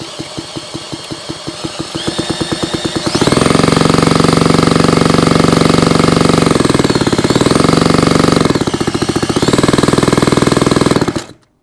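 A power drill cranks the engine of a 1975 Kawasaki KE125 motorcycle with rapid rhythmic chugging, then the loud whir and clatter surge steadily, dipping twice before stopping abruptly.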